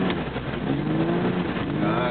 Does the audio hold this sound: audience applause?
no